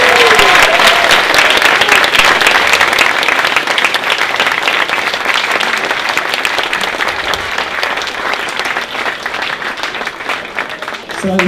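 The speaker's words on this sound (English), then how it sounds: "One more big round of applause for Zouk Voices as they go on" Audience at a winter arts show gives a big, sustained round of applause for the Zouk Voices choir, loud and steady throughout, with a voice briefly heard over the clapping.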